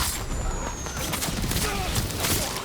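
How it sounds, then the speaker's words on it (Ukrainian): An arrow volley barrage in the Ghost of Tsushima video game, a loud, dense, continuous rush of whooshing arrows and impacts with no break. "Ого, обстріл стріл."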